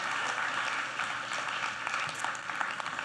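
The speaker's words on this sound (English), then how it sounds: "Give her a huge round of applause" An audience at Keith Barry's magic performance at YouTube Space LA applauds, a steady, fairly quiet roll of many hands clapping with a few sharper individual claps, and no talking.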